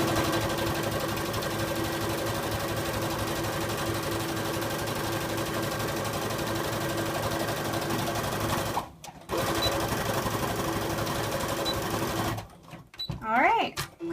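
A sewing machine stitches a trouser hem with a steady, close whirring run, briefly stopping around the nine-second mark, then resuming before cutting off near the end as a person begins speaking.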